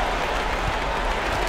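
Arena crowd in an NBA 2K23 basketball game between the Phoenix Suns and Dallas Mavericks cheers and applauds, a steady wash of noise at even loudness for a short moment.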